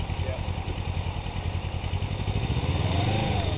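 A small motorcycle engine idles with a low rhythmic putter, then builds slightly as the bike pulls away on a cul-de-sac, close and steady under a person talking.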